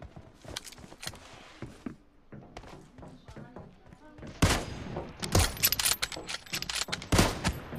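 Machine gun fire in a 1v1 video game match: scattered sharp shots early on, then louder sustained rattling bursts toward the end, with some voice underneath.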